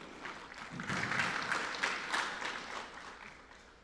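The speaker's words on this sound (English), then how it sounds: "So please give her a round of applause." Applause from a conference audience swells and holds briefly, fairly faint and distant, a soft spread of many hands clapping.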